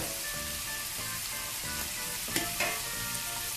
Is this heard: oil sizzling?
yes